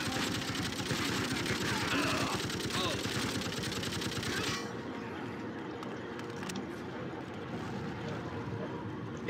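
Rapid, continuous machine-gun fire in the video game Freedom Fighters rattles for about four and a half seconds, then stops, leaving quieter game ambience with someone talking over it.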